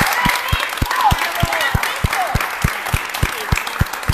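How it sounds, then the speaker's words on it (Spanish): An audience applauds a theatre teacher, with crowd clapping throughout, a steady rhythmic beat in even pulses, and voices cheering over it. "Yo quiero que brindemos un fuerte aplauso a nuestra profe de lujo, Elena."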